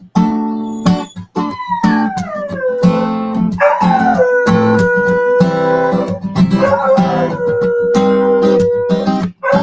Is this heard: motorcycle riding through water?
no